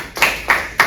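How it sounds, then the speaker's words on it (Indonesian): Three distinct, crisp hand claps ring out in a classroom after a group presentation, evenly spaced and close, each one sharp and loud with a brief decay. "Beri tepuk tangan terlebih dahulu."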